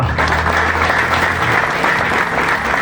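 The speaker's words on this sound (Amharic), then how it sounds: "አጨብጭቡ ለጌታ።" A church congregation applauds, loud and steady clapping filling the space from start to finish with no pauses.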